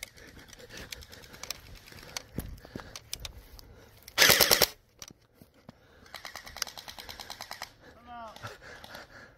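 A DGR LEI gel blaster fires on full auto outdoors by woods: one loud, tight burst of rapid shots, then quieter rattling volleys, with a voice briefly heard near the end.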